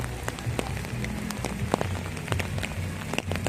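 Heavy rain pours down at a picnic spot in Clark, pattering densely with scattered sharper drops striking close by, steady and loud throughout with no speech.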